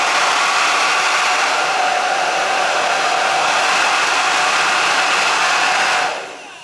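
A Philips BHD308 foldable 1600W hair dryer blows cool air with a steady, loud, close whoosh and motor hum that drops away abruptly near the end when it is switched off.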